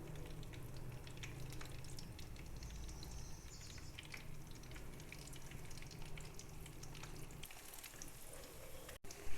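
Chicken shami kebabs with raw potato fry in a shallow pan of oil over medium heat, giving a steady, close crackling sizzle throughout.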